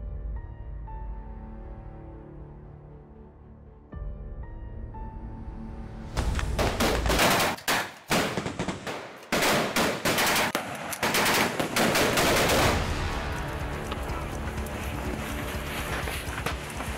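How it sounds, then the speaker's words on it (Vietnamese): Staged gunfire in a martial arts gala reenactment themed on peacekeepers: after about six seconds of quieter tonal background, loud close bursts of rapid shots erupt, with brief gaps between volleys, then continue as a dense crackling barrage. "Có tiếng súng nổ như vậy thì chúng tôi biết ngay là có chuyện không lành."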